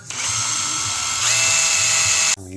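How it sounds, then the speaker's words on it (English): A socket set ratchet turns on a Tillotson HL 355 carburetor, giving a steady close-up mechanical whirring and clicking that runs continuously, grows slightly louder partway through, and then cuts off abruptly near the end. "We'll use our socket set."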